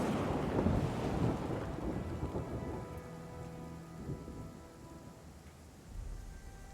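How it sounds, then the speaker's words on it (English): A deafening thunderclap over steady rain: thunder rumbles loudly through the opening seconds, fades into a drawn-out low roll under the patter of rainfall, then swells again near the end. No voices. "The villagers are interrupted by a deafening clap of thunder as a bolt of lightning cracks down and scorches a huge tree"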